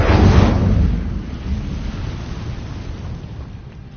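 A fire spell blast from Hogwarts Legacy bursts out as a loud whooshing roar that peaks at once, then fades away into a low crackling rumble over a few seconds.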